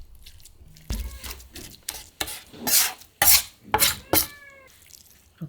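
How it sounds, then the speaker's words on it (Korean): Tofu mashed by hand for a dumpling filling gives a run of close, wet squishing and pressing bursts, some sharp and loud, separated by short quiet gaps. "두부를 으깨주세요."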